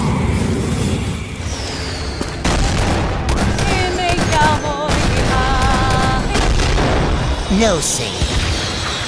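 Laser blasts and heavy gunfire-like bursts crash through a Skibidi Toilet animation, dense loud volleys with whistling zaps and booms layered over music and shouted voices.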